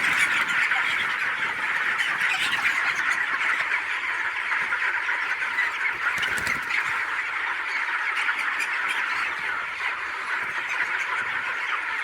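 Three-week-old broiler chickens crowded on a poultry farm, a dense, continuous chorus of squawking and clucking that fills the space steadily for twelve seconds.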